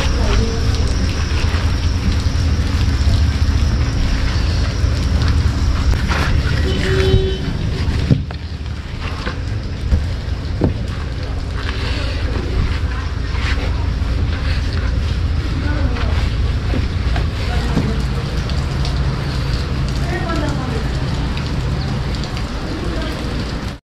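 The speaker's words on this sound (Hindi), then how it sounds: "बाहर मौसम देखिए बहुत ख़तरनाक मौसम हुआ है, बारिश से यहाँ पर पार्किंग में झरना बन गया है" Heavy rain pours steadily outside, flooding a parking area into a waterfall-like runoff while snow falls higher up; a dense, continuous wash of splashing water fills the whole stretch at close range.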